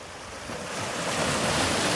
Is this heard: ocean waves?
yes